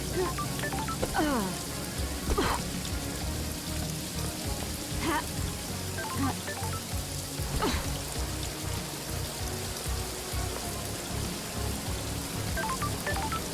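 Rain falling in the video game Paradise Killer, a dense continuous patter of drops on surfaces with scattered brighter ticks and chirps, steady and enveloping throughout.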